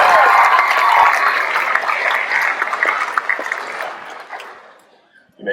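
Loud, close applause from a high school graduation audience honoring the top ten graduates, steady dense clapping that gradually thins and fades out near the end.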